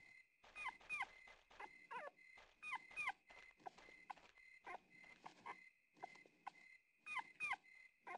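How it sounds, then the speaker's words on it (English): Dog barks and whimpers from the video game Rule of Rose, a series of short yips and whines in bursts separated by pauses, fairly faint over a quiet background. "she heard a dog bark"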